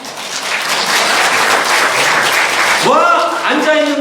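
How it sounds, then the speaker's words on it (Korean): A church congregation applauds in a steady, dense wash of clapping, loud and close, with a voice speaking over the tail end as the clapping carries on. "박수 한번 해주세요."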